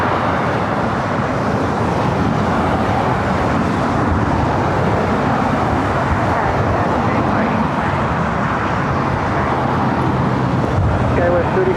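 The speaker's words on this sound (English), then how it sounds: "This is the Delta 767. Came in from Honolulu. making its way to either Terminal 2 or 3." A Delta Boeing 767 airliner taxis at LAX with a broad, steady jet engine roar that holds loud and continuous throughout, blended with distant airport and road traffic noise.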